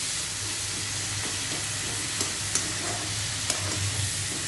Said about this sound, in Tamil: இந்த வெங்காயம் வந்து நல்ல கோல்டன் ப்ரௌன் ஆகும்